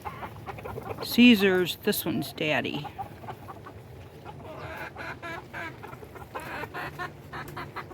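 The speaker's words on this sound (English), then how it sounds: "He's a pretty rooster." A rooster clucks loudly and nearby in a backyard flock of chickens and ducks on a rainy day, a short burst of throaty calls, then softer clucking while a person talks.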